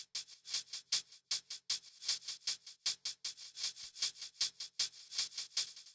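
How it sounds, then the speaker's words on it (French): Hi-hat pattern programmed in FL Studio using an Operator synth preset: rapid, bright, crisp ticks in a steady rhythmic pattern, close and moderately loud, with no other instruments or voices. "Ensuite on a des hi-hats"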